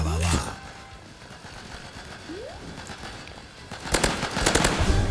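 Rapid bursts of gunfire crackle from a weapon that fires bananas in the video game Hypershot, a quick crack at the start and a dense volley of sharp shots near the end over a low game backdrop.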